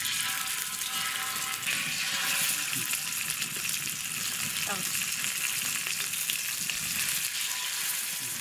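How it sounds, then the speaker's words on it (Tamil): Ayila mackerel fish frying in a pan in a village kitchen, giving a steady, loud, unbroken sizzling hiss throughout with no one talking. "கொஞ்சம் மீன் வறுத்து வைக்கிறது"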